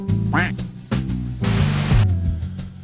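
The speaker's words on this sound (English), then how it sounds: "See this duck here?" A duck quacks in a short descending burst near the start amid a busy cartoon soundtrack, with music and voices running throughout.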